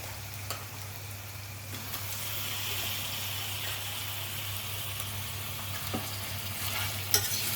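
Chicken stirred and frying in a pan for gongura chicken, with a steady soft sizzle and faint scraping of the spoon, quiet and close, no talking.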